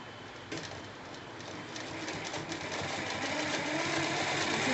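An electric sewing machine stitches buckram to cloth for a kurta collar, a steady mechanical whir with a faint rapid rhythm that starts after a short pause and runs evenly at moderate, fairly quiet level.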